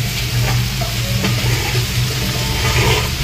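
Bhujia sizzles and crackles loudly in mustard oil in a pan while being stirred, with intermittent scraping strokes over a continuous close frying hiss. No one speaks.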